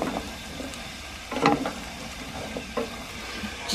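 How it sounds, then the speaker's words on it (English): Onion and butternut squash frying in a pan aboard a narrowboat, a steady close sizzle broken by a few louder stirring scrapes and clatters. "Just fry that for a couple of minutes."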